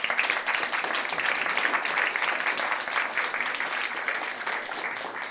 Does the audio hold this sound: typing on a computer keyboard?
no